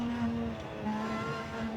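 A mid-engine, rear-wheel-drive Lotus circulating on a track, a steady engine hum heard from inside the cabin with a slight dip and recovery in pitch as the revs change.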